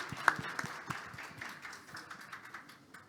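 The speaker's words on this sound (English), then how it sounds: "So how about a big round of applause, please, to welcome our speakers and moderator." Scattered applause from a symposium audience welcoming speakers and a moderator, irregular claps of moderate loudness that thin out and fade over a few seconds.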